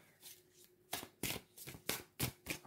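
Tarot cards are shuffled by hand in quick riffling bursts, about six sharp rustling passes in a rhythmic run, close and otherwise quiet.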